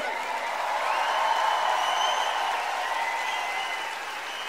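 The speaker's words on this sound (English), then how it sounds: "Give him a bigger round of applause than that." Loud, dense applause with some cheering from a large festival concert crowd, given for the bass guitarist at a Montreux Jazz Festival show. The clapping swells gently and holds steady with no talk over it.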